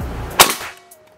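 One sharp shot from a 2500 psi DWP Pasopati air rifle cracks close by, followed by a brief fading ring in an otherwise quiet space.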